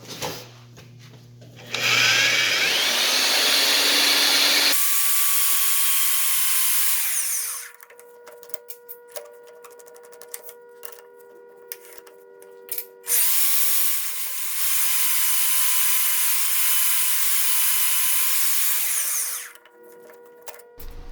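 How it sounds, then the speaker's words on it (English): A power drill with a center drill bit whines through metal in two long bursts, each spinning up and then stopping, with clicks and quiet handling noises in between. "Line that up there with a little center drill and drill and tap the ends"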